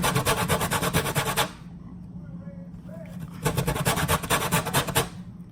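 A lemon scraped over a zester, two bursts of fast, rasping strokes separated by a short pause, close and loud, with a few words spoken in between.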